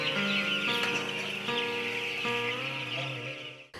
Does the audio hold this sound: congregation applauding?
no